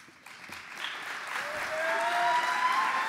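Applause from the audience at a school promotion ceremony builds from quiet to a steady, moderately loud patter of clapping, with some voices under it.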